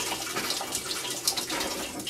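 Water from a leaking wall-hung toilet cistern runs as a steady, close hiss of flowing water, with no speech.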